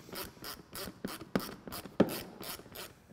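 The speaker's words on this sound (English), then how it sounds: "Next, we can install the T30 Torx fastener into the rear of the seat." A T30 Torx fastener is driven into the rear of a Polaris snowmobile seat, giving a series of close, faint ratcheting clicks and scraping turns with a couple of sharper knocks.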